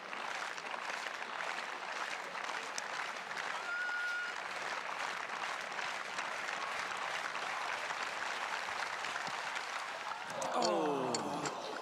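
A stadium crowd claps in rhythm for a high jumper attempting 2 metres at the Australian track and field championships, a distant, fairly quiet pulse of clapping running throughout, with a brief louder burst near the end.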